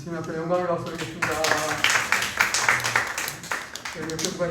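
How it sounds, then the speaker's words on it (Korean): A church congregation breaks into applause during a Sunday service, scattered clapping building into a dense burst with a voice speaking over it. "우리 주님 앞에 영광을 박수드리겠습니다."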